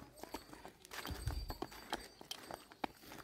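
Bullocks' hooves clopping in an irregular walking rhythm as the animals are led home to the yard, close by and moderately loud, with a heavier low thud midway.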